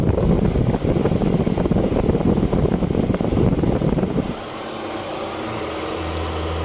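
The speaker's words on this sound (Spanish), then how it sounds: "ahí está el ventilador funcionando" A car's electric radiator cooling fan, run directly through a 14-gauge jumper wire, whirs loudly with a broadband rushing noise, then cuts out and leaves a quieter low hum.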